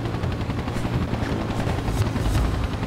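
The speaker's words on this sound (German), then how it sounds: "Und da ist noch ein Hubschrauber, glaube ich." A helicopter hovers in the video game Spider-Man 3, its rotor producing a constant low, rapid chopping throb under broadband noise, steady and fairly loud throughout with no talking.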